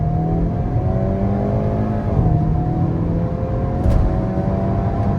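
Hyundai Kona N pulling away from a stop on 19-inch wheels, the engine note climbing steadily in pitch as it accelerates, heard from inside the cabin as a continuous rising drone with tire and road hum.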